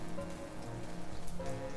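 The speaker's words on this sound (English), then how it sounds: "So why don't we take some shelter from the rain here?" Steady rain falls in the video game Rusted Moss, a dense, even patter on surfaces with a faint low tone underneath and no voices.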